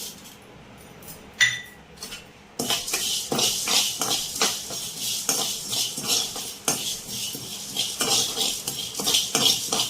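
Coriander and cumin seeds frying lightly in a pan while a metal spoon scrapes and clinks against it in a steady, busy rhythm, close and clear, after a short quieter start.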